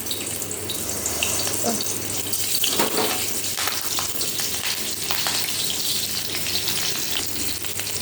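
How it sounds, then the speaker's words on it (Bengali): Green chillies dropped into hot oil for tempering, giving a loud, continuous close sizzle and spatter with sharper crackles scattered throughout, steady and without talking. "তেলটা হয়ে এসছে, কাঁচা লঙ্কা দিয়ে দিলাম।"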